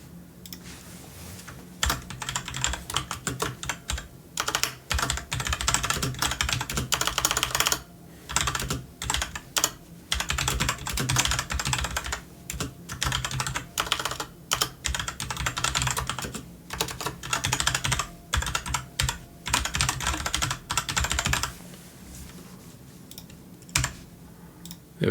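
Steady typing on a computer keyboard, close and clear, with rapid bursts of keystrokes broken by short pauses and no talking.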